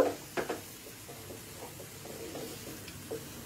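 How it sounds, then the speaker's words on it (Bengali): Curd being stirred into masala and fried for fulkopir bharta, a low sizzle with soft scraping strokes and small clinks from the spoon at irregular intervals. "এবার দইটা পুরো মশলাটার মধ্যে ভালো করে মিশিয়ে কষিয়ে নেব"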